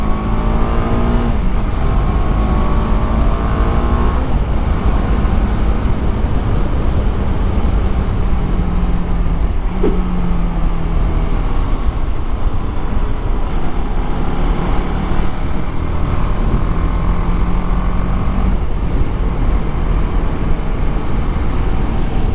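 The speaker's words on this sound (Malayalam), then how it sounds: "ഒരു 2500 RPM-ൽ തന്നെ നമുക്ക് ഈസി ആയിട്ട് അപ്പ് ഷിഫ്റ്റ് ചെയ്യാൻ പറ്റുന്നതാണ്" A 2025 TVS Apache RR 310 motorcycle engine revs up repeatedly as the quick-shifter clicks through upshifts at around 2500 RPM, with rising pitch sweeps that drop at each shift, loud and steady for over twenty seconds.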